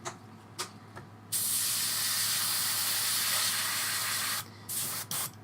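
A Badger Patriot 105 airbrush sprays brush cleaner in one loud, steady hiss lasting about three seconds. A few short puffs come before it and two brief bursts follow, with no talking.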